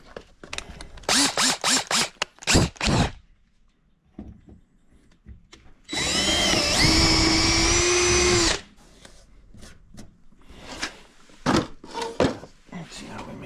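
A power drill fitted with a larger bit bores into a workbench part during a vise upgrade, one loud sustained whir of a few seconds between bursts of nearby talk and clunks.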